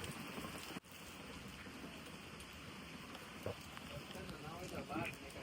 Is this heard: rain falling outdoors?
yes